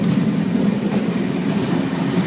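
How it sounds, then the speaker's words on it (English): A Sydney Trains K set, an older suburban electric train, rolls along with a steady low rumble and faint rhythmic wheel clatter, loud and continuous from on board, with no talking. "As you can see, the train's moving"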